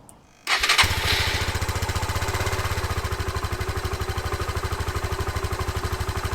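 A Suzuki VanVan motorcycle with its stock exhaust starts up and settles into a steady, even idle, a close, fairly quiet rhythmic putter that carries on alone.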